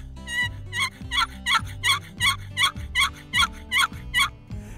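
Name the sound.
box call imitating hen turkey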